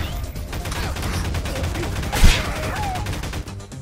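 Gunfire in Garry's Mod, a rapid stream of close, loud shots with one sharper blast midway, continuing steadily over a rumbling game background.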